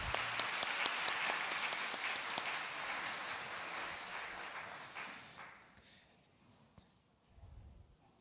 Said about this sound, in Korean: 우리 하나님 앞에 영광의 박수 한번 올릴까요?